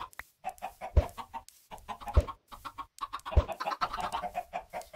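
Video game chickens cluck in short, repeated bursts with small gaps between them, fairly faint and heard alone without talk.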